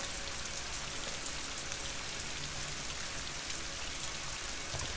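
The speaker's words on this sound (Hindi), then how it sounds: "झमाझम बारिश हो रही है" Heavy rain falls in the video game Rise of the Tomb Raider, a steady, moderately quiet hiss of drops hitting surfaces with no break and no voices.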